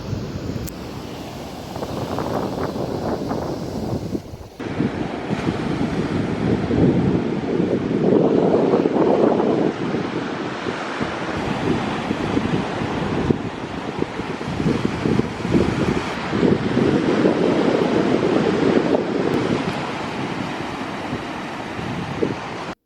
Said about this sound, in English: It's been a bit windy on the beach